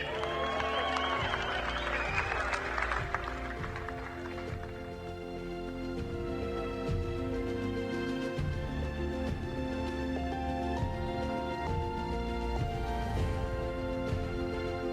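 A crowd at a rugby team ceremony in Sri Lanka breaks into applause for All Black captain Kieran Reid, a brief burst of clapping at the start that soon gives way to a steady background hum.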